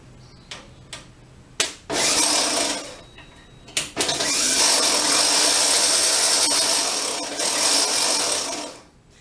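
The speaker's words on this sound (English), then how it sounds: "I'm not getting good contact with the starter ring gear to the flywheel" A starter cranks a 36hp Okrasa engine with poor ring gear contact against the flywheel. A few sharp clicks and clunks come first, then loud, harsh whirring and grinding bursts lasting several seconds, close and without running engine firing.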